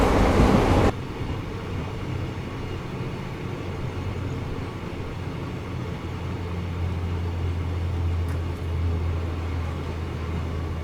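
The Shivamogga–Yesvantpur Overnight Express runs along the track, a steady low rumble heard from inside the train with a continuous hum and faint rattling; a brief louder burst opens the run.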